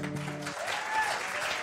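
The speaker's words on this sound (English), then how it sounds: "A big round of applause." Applause from a community meeting audience, a short burst of dense clapping at moderate level, with a tonal hum fading out at the start.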